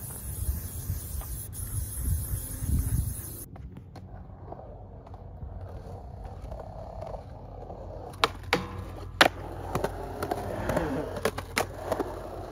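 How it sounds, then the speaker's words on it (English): Sunscreen hisses briefly from a spray can, then after a pause a skateboard rolls and scrapes at a curb-style rail, with sharp clacks and grinding bursts toward the end. "So I'm going to spray this on and then we're going to hit the rail really quickly."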